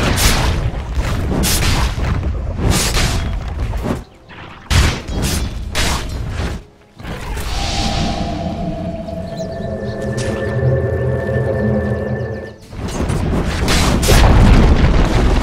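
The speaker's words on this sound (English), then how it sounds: "Dire's top tower has fallen." Dota 2 match sounds as a tower comes under attack and is destroyed: dense layered booms and impacts with repeated sharp hits, then a sustained crumbling rumble with a held tone, loud and continuous throughout.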